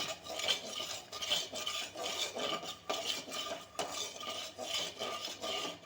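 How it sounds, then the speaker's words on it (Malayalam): Roasting peanuts for peanut candy are stirred in a pan with a spoon, giving rhythmic rasping scrapes and dry rattling in repeated strokes, close and fairly quiet. "ഇത് തീ ഓഫാക്കിയിട്ട് കുറച്ച് നേരം ഇളക്കാം"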